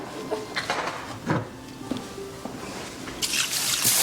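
Water is poured into a soup pot holding homegrown onions, bay leaves and garlic powder in a home kitchen, giving scattered splashes, drips and a few pot clanks, rising to a brighter gushing pour near the end.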